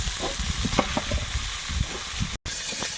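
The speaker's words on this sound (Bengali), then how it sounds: "চিংড়ি মাছটা ভাজা হয়ে গেছে উঠিয়ে নেব" Prawns frying in oil in a pan give a brief, close sizzle mixed with soft clatters and knocks, cutting out for an instant near the end.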